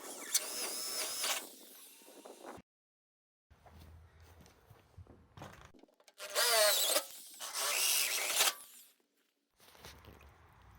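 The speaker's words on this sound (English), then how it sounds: "I'll drill a pilot hole and then the larger hole for the 12mm rod to go through" A power drill whines in short bursts, stopping and starting, drilling a pilot hole in wood for a raised garden bed, with quieter handling noises between the runs.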